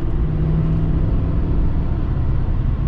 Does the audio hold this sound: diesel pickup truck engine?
yes